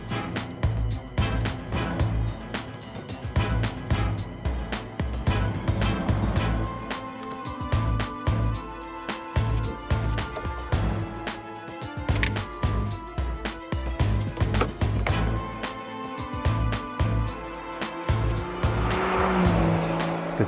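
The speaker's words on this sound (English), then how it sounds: "The engine can be heard all the better when the coupe changes into a convertible." A Roding Roadster convertible with its engine mounted at the back, driven hard with the roof open: a loud, revving engine note rising and falling through gear changes, with brief tire squeals.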